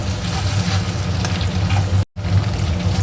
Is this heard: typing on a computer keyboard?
no